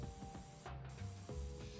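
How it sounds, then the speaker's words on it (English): A video game spray-paint effect gives a steady soft hiss with a faint rubbing texture and quiet low tones underneath, close and continuous, with no voices. "I'm spray painting and it's turning back dark again."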